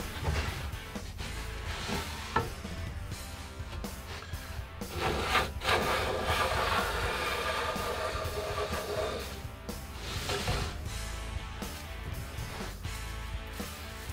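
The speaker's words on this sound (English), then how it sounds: "until I get a nice and thin shaving along the entire length of the board." Hand plane shaving a quilted maple guitar top board, a series of close, soft rasping wooden strokes with light knocks between passes, steady and fairly quiet, without talking.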